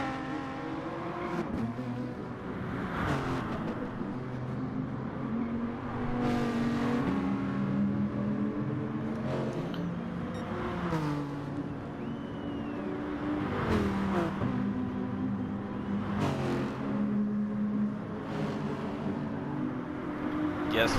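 A sim racing car engine holds full throttle in a video game, a loud sustained roar with repeated rises and falls in pitch through gear shifts and corners, while a voice talks over it.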